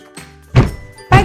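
Feet stomp on a floor in a children's sound-guessing lesson, three heavy thuds spaced about half a second apart, the last two loud and booming, standing alone with no talk.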